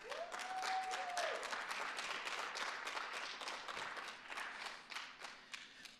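Audience applause at a city's State of the City address, a fairly quiet, distant round of clapping with a brief whistle near the start, fading gradually into scattered claps toward the end.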